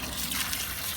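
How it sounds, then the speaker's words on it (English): Pond filter being back-flushed, with water streaming steadily back into the pond in a continuous, fairly loud rushing trickle that holds even throughout. "this water is flowing back into the pond"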